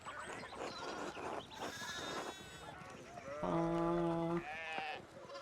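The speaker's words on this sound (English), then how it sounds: "we need to get these sheep under control" Sheep bleat in a medieval village scene from the Pentiment video game, one loud drawn-out bleat standing out near the end over fainter animal calls and background sound.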